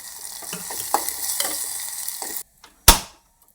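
Broken dry red chillies fry in oil for a moong dal tempering with a busy, crackling sizzle and stirring pops. The sizzle cuts off abruptly, followed by a short silence and one sharp metallic clatter.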